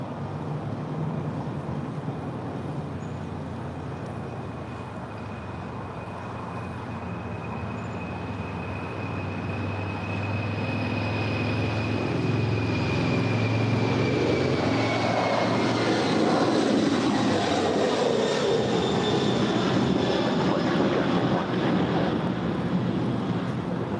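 An Atlas Air Boeing 747 departing Los Angeles airport for Seoul, its engines building from a distant whine into a loud, rising roar with sweeping tones as it passes, then a sustained heavy rumble; no voices.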